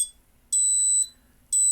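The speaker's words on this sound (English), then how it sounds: "right away the piezo buzzer started beeping" A piezo buzzer on a Raspberry Pi gas alarm sounds two clear, loud, high-pitched beeps about a second apart, each lasting roughly half a second, with near silence between them.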